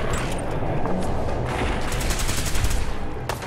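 Rapid gunfire in a Fallout 4 firefight, a dense burst of shots and crashes lasting a few seconds, loud and close with no talk over it.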